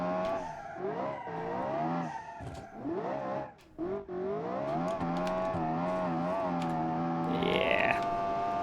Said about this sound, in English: Yeah, let's burn some tires.